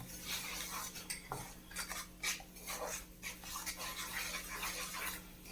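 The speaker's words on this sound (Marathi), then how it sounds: "राहिलेले बदाम आणि पिस्ता हे दोन्ही टाकून घ्यायचे ते पण आपल्याला थोडेसे भाजून घ्यायचे" Almonds and pistachios roasting in a pan for water chestnut halwa, stirred with faint metallic scrapes and light clinks against a quiet, low hiss.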